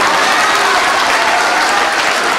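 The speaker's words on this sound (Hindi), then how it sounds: "एक मरतबा जोरदार तालियों से इस्तकबाल कर दे" Loud, dense applause from an audience at a poetry recital welcoming a poet, a thick continuous roar of clapping with no pauses, close and filling.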